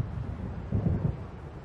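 A low, distant rumble of thunder from an approaching storm in the video game Alan Wake swells briefly midway through, soft and muffled over a windy background.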